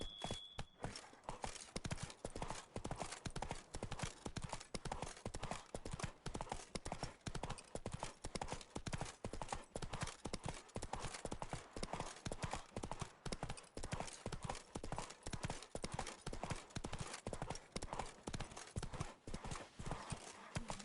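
Roach the horse gallops in The Witcher 3, hooves pounding in a fast, steady clip-clop rhythm that runs loud and close for the whole stretch, with a brief whinny near the start.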